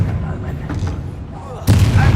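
A Confringo fire spell bursts in the Hogwarts Legacy wizard game, a sudden loud blast near the end after a low rumbling stretch of combat noise.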